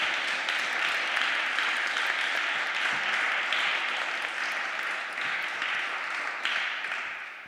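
An audience at a panel discussion on network authoritarianism gives the speakers sustained, even applause, many hands clapping steadily throughout before tapering slightly at the end.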